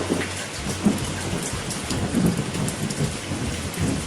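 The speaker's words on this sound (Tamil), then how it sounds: "அந்த இடியும் மின்னலும் அதிகமாக இருந்ததுனால அங்கே மழை பெய்ய ஆரம்பிச்சிச்சு" Thunder and heavy rain used as a sound effect in a narrated story: dense, steady downpour with low rumbling thunder rolling underneath throughout, loud and immersive, with no speech.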